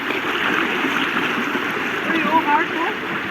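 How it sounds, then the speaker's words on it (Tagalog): River water rushes and gurgles steadily during a forest river crossing, a continuous close flowing wash with small splashes near the end. "talaga nga namang napakaraming ilog na aming tinatawiran"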